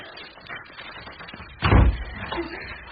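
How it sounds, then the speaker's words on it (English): A door swings shut with a single heavy thump midway through, followed by a brief rattle as it is locked, set against quiet room tone in a 1984 Maltese Falcon drama. "Lock the door."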